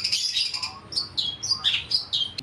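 Long-tailed shrike (cendet) calls in rapid, sharp chirps and short squawking notes, close and loud over steady background noise, a continuous run of repeated bird calls with no voices.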